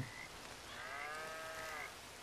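Cattle in the open-world western game Red Dead Redemption 2 moo once, a drawn-out low bellow rising and falling over a steady hiss of ambient background noise.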